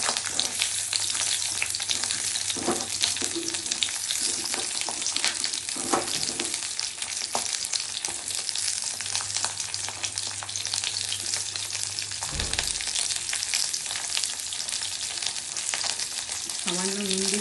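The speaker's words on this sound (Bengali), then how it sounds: "তেল গরম হয়ে গেছে, এখন পটলগুলি হবে ফ্রাই করে নেব।" Slices of pointed gourd (potol) fry in hot oil for a Bengali prawn dish, giving a loud, continuous hiss and crackle close up, with an occasional clink of a spatula and no voices.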